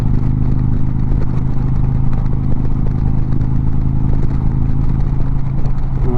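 Motorcycle fitted with a Freedom Shield windscreen, cruising at highway speed near 85 while passing a tractor trailer, with a loud, steady engine drone and constant wind roar throughout.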